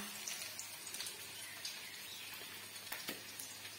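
Chopped onion and green chilli fry in hot mustard oil in a kadai, a soft, fairly faint steady sizzle with a few scattered pops and clinks, no voices.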